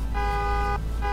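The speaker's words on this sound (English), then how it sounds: "You're honking." A car horn in the racing game Assetto Corsa honks twice, a long steady blast followed by a shorter one, loud and close over a low engine rumble.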